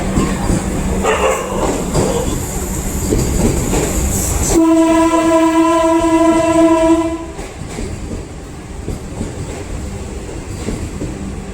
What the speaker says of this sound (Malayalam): മഡ്ഗാവ് മംഗളൂരു സെൻട്രൽ വന്ദേ ഭാരത് എക്സ്പ്രസ് കടന്നു പോകുന്നുണ്ട് പ്ലാറ്റ്ഫോമിൽ കൂടെ